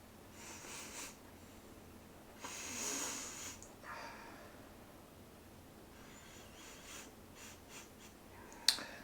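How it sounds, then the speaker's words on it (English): Several close, breathy sniffs of a non-alcoholic Oktoberfest beer come in short bursts with pauses between them, quiet and airy, with a small click near the end. "let's give it a sniff first."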